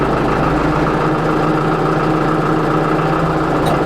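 A Bağsan loader's engine idles steadily and loudly close by, a constant low mechanical drone with no pauses or speech throughout.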